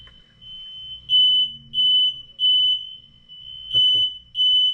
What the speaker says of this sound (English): I think somebody triggered the alarm.